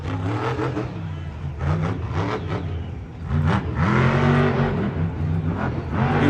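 A Bakugan Dragonoid monster truck at a Monster Jam stadium show in Atlanta roars loudly and continuously, its engine revving and surging in repeated rising pulses over steady arena noise.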